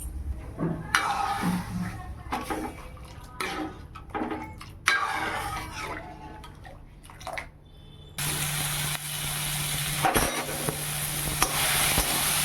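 Mung dal with salt and turmeric bubbling in a pan, a close, steady, watery simmer with stirring scrapes and clinks, and a louder, denser bubbling hiss in the final seconds.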